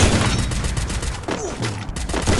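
Rapid gunfire from the Free Fire shooter game, a dense fusillade of overlapping shots running continuously and loudly across the whole stretch without pause.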